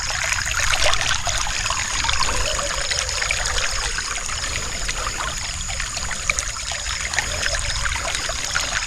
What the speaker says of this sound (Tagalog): ito na yung tubig natin, nandito na